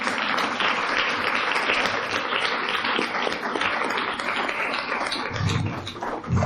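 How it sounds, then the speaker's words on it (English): An audience applauds panel speakers at a Paris women-in-machine-learning meetup, a dense, steady wash of clapping that carries on for several seconds. "Let's give our wonderful speakers a big round of applause."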